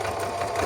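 A sewing machine runs steadily at close range, stitching a zigzag along a braid trim edge with a continuous fast mechanical whir and no speech.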